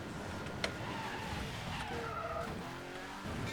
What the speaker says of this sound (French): Donc ça vous fait déraper en fait et ça vous stoppe, ça fait vraiment un gros coup de frein main.